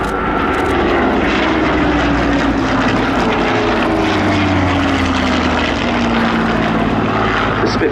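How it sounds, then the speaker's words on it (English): A Spitfire propeller fighter passes low at the Cosford air show, its piston engine a loud, rich roar with a descending Doppler drone as it sweeps by close and continuous. "The Spitfire is flying today."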